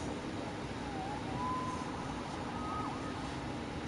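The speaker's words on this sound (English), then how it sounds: "Saved by the siren." A police siren wails faintly in the distance through the city in the Marvel's Spider-Man video game, a thin rising and falling tone sitting low under steady ambient background noise.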